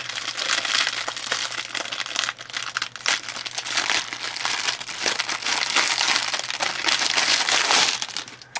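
Thin plastic bag protecting a bundle of Island Batik fabric crinkles and rustles steadily and close up, a continuous crackling handling noise with no pauses.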